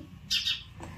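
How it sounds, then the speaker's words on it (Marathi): A single sharp bird chirp rings out briefly over a quiet rural morning hum, followed by a fainter second note; fits sparrows calling nearby. "चिवचिव चिमण्यांचा किलबिलाट"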